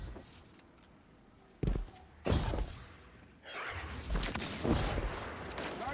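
Sniper gunfire in an online shooter game: several sharp, loud cracks with some echo stand out over a steady background, the later ones arriving in a denser cluster.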